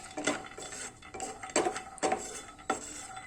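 Cashews and almonds dry roasted in a hot pan for a homemade health drink powder, heard as several distinct rattling scrapes and clinks of a spatula stirring the nuts against metal, close and with no talk.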